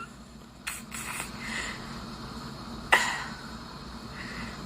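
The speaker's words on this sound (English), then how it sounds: "I apologize for all the coughing." A person coughs a few times, sharp raspy bursts with a throaty clearing between them, heard up close over a quiet room background, with no talking.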